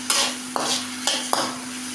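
Soybeans and tomato frying in a pan while being stirred, a steady sizzle broken by several sharp scraping strokes of a spoon against the pan.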